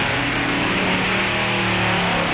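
Drag race with an Allison-engined dragster against a twin Chevy dragster, a loud continuous wall of roaring engine noise with no pauses.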